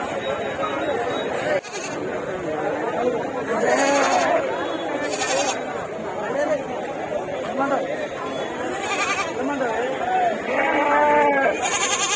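Goats bleat again and again, loud and close, at the busy Kothagudem weekly goat market, under constant crowd chatter and people talking nearby.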